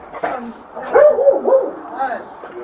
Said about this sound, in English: it ain't their dog running around no more